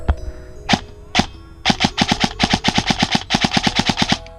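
An airsoft gun fitted with a short-stroked SHS sector gear fires about 30 rounds per second, first with a few single shots and then in rapid, evenly spaced bursts of sharp, loud, close cracks.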